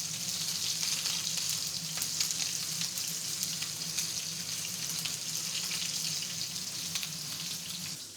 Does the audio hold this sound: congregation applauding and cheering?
no